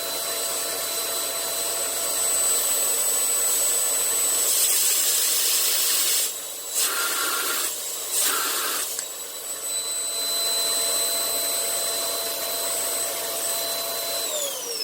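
A homemade pail dust collector with two cyclone units runs with its end cap open, producing a loud, steady rushing whine with high tonal lines and a few brief dips in airflow near the middle.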